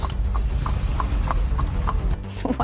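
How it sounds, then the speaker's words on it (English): A runaway horse's hooves clip-clop along a Florida highway in a fast, even rhythm of close, distinct hoofbeats that carries on steadily throughout. "Deputies try pulling over a runaway horse in a hilarious video that you have to check out"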